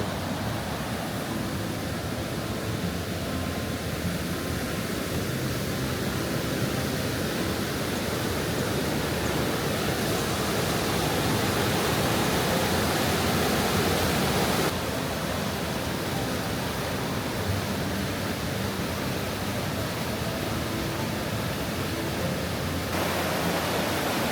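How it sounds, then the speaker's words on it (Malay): Fast-flowing river in Changping Valley, Sichuan, rushing loudly as a broad continuous roar of water, steady and close for the whole stretch with no talking. "Sekarang ni kita orang menghala ke tepi sungai ni. Deras gila air dia."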